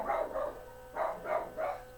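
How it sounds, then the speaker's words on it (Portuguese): A dog barks five times in two pairs and a final bark, fairly close and moderately loud, with short pauses between them and no talking. "Meu cachorro latindo."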